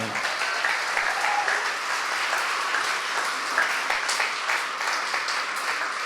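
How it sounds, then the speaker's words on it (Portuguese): A church congregation gives a strong, sustained round of applause after a sermon in Portuguese. The clapping is dense and even, with a few voices mixed in. "dê um forte aplauso à palavra do Senhor."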